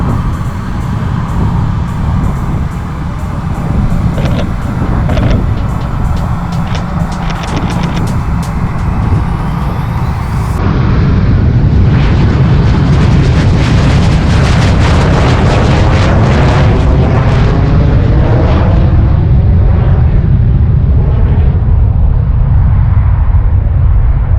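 A loud, sustained roar from an aircraft passing close in front of a rooftop, swelling and shifting in pitch as it goes by, heavily overpowering the wind and ambient noise with no speech.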